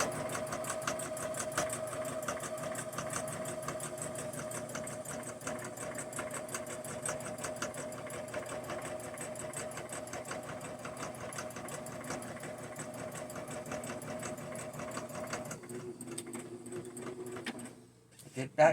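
Sewing machine running a long seam on a quilted mug rug made from an orphan quilt block, a close, steady whirring chatter of needle strokes that stops near the end, with a voice talking over it.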